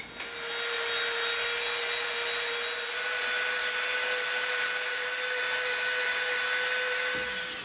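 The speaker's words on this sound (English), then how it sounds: "now we're gonna take our Dremel and we're gonna round the edge off" A Dremel rotary tool grinds steadily against the edge of a small EVA foam circle, rounding it off with a continuous high whine up close, loud and uninterrupted, with no speech.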